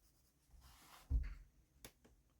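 A Faber-Castell Polychromos colored pencil scratches across paper under firm pressure, a short close rasping stroke with a soft thump, then a brief faint tick.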